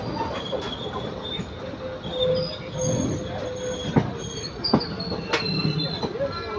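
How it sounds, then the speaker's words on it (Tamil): A passenger train rolls into Palakkad Junction, its wheels squealing and clanking over the rails with sharp metallic clicks and a rumbling drone, fairly close and steady throughout. "கரெக்டான டைமிங்கில் வருதுங்க இந்த ட்ரெயின்."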